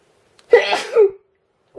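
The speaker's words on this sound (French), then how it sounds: "Je vais éternuer bientôt" A woman lets out a single loud, close sneeze, a sharp burst that trails off quickly, with near silence before and after.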